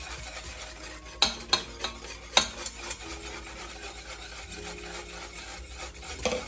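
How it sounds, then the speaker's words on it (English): Milk and cornstarch being whisked together in a bowl for a homemade chocolate pie, a steady scraping, rubbing stir with a few sharp clinks of the whisk against the side, close and moderately loud, no voices. "Whisk that together."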